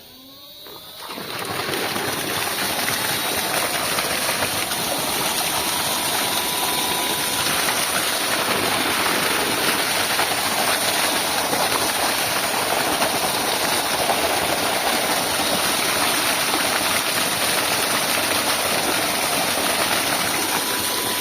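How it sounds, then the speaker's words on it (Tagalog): A solar-powered water pump runs steadily after starting up, a continuous motor hum with faint water sloshing, constant and fairly close throughout with no talking. "Solar pump."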